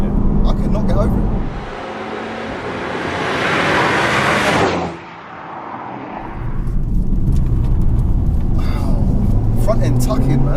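A Mercedes A35 AMG is driven hard, its engine note rising under throttle, then dropping away briefly before it pulls again, heard loud from inside the cabin while people talk.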